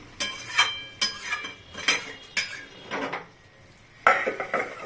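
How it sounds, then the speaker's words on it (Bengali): Katla fish curry with potato, cauliflower and bori being poured out of a cooking pot, with a few scraping clinks of a ladle or spoon against metal, close and distinct, followed by a short rattle. "মাছের ঝোলটা ঢেলে নিচ্ছি"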